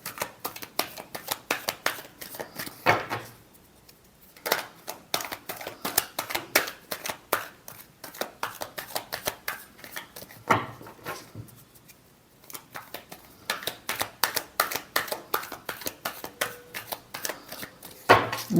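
Tarot cards are shuffled by hand for a reading, a long run of crisp rapid riffling bursts broken by short pauses, close and fairly quiet with no talking.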